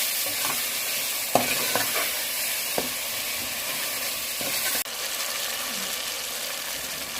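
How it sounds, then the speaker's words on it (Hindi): Red chilli, curry powder, turmeric, salt and spices are stir-fried for a taro root masala, giving a continuous loud sizzle with scattered spoon scrapes and clicks, no voices. "कड़ी पाउडर, हल्दी पाउडर, नमक, मसाले को अच्छे से भून लेंगे।"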